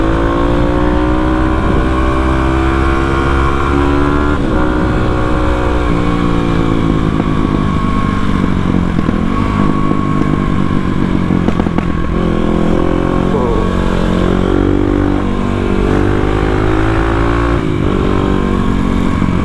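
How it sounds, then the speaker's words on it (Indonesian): A motorcycle engine runs loud and continuous while warming up on a morning ride, its pitch rising and falling with repeated revs, close to the recording point, and a voice speaks faintly over it. "Lama sekali panasnya ini mesin, anjir. Harus muter-muter dulu baru bisa panas."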